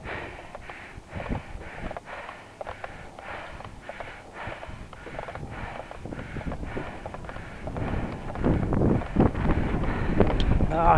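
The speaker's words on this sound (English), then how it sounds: "here comes the wind off the hill too" Wind gusting off a hill buffets the microphone during an uphill bicycle ride on a road near a waterfront trail, a broadband rushing noise that builds steadily louder toward the end, with breathing and small knocks mixed in.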